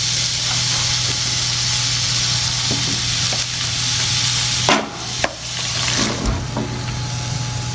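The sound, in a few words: bottle gourd added to sizzling prawns in a pan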